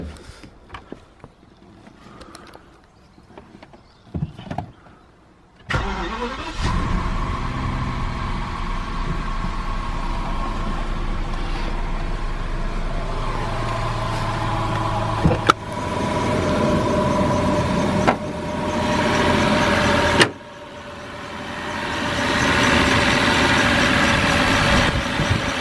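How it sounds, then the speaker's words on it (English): A BMW 760Li with the N73 V12 engine is started after a few quiet knocks and settles into a steady, close idle, with brief thumps and level changes along the way. "we should get this thing fired up so we can get the engine up to operating temperature"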